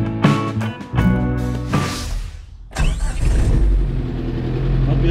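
Suzuki Samurai diesel driving, its engine note steady and continuous throughout, with a brief rise partway and louder road and engine rumble afterward, heard close from inside the cabin.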